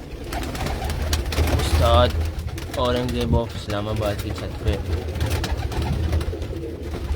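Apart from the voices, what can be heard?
Teddy pigeons cooing on a rooftop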